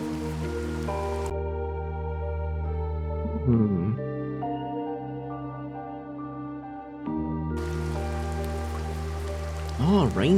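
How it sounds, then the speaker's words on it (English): Steady rain patters in the Crypt Custodian video game as a soft broadband hiss beneath layered sustained music, thinning out mid-clip and returning strongly near the end. "Oh, rain sounds. This game wants me to nap."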